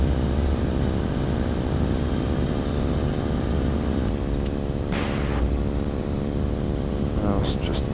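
A microlight aircraft engine drones steadily from inside the cockpit on approach to land in crosswind, a loud continuous buzzing hum, with a voice briefly audible over it.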